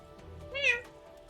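A kitten in the video game Bright Paw gives a single short, high meow near the middle, clear over a faint low background hum.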